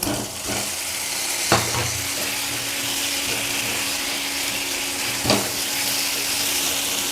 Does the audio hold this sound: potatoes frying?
yes